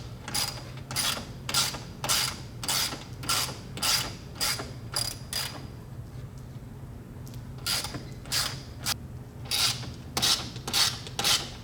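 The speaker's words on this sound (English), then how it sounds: "All right, so next we need to take all these bolts out." A ratchet wrench loosening 10 mm bolts on the grille of a 2017 Ford F-150 Raptor, quick bursts of close metallic clicking in a steady rhythm, a short pause midway, then more clicking runs.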